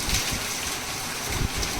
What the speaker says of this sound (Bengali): আমি এখন বাইরে প্রচণ্ড বৃষ্টি পড়ছে